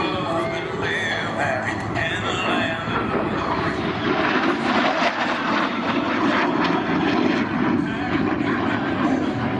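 An F-35 Lightning II jet roars at an airshow in Battle Creek, a loud, continuous broadband engine rumble held steady throughout as it climbs, with an announcer's voice faintly under the noise.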